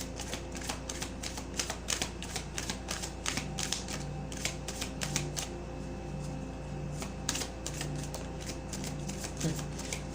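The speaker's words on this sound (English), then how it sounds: "We're going to take 4 cards." Tarot cards being handled and drawn from a deck, a string of quick crisp flicks and soft card slaps close up over a steady low hum and faint background tones.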